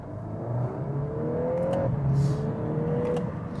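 A Volkswagen Golf R with a 2-litre four-cylinder engine accelerates hard, its engine note rising steadily in pitch through one gear, dipping briefly at a shift, then climbing again, close and alone.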